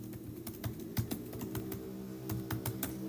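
Close, steady keystrokes on a computer keyboard come in irregular runs with brief pauses between them, and no one speaks.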